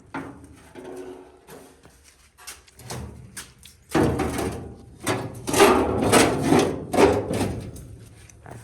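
A dually fender flare for a 1972 Ford F-350 is trimmed by hand, a steady rasping, sawing scrape that starts off intermittent and then grows louder and more continuous, close by with no talk.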